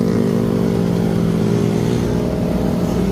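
Motorcycle engine running steadily on a mountain road climb near Marilaque, a continuous mid-pitched drone holding at a loud, even level throughout with no voices.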